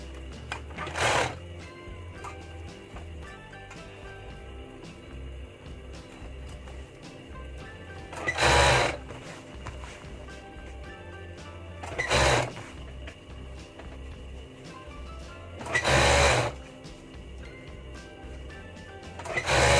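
An overlock sewing machine serging the seams of a button-up shirt, heard as four short whirring bursts spread apart, with quiet room sound between runs.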